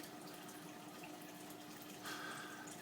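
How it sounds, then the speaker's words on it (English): An aquarium power head in a map turtle tank pushes out a water current, a faint, steady trickling rush that swells slightly near the end. "So that green tube is where the power head ejects its water, and it comes out of there pretty quick."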